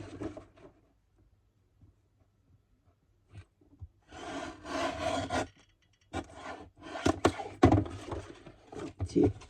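Cutting card stock by hand for a handmade greeting card: bursts of rasping, scraping strokes with brief pauses, close and fairly loud, with quieter handling noise early on.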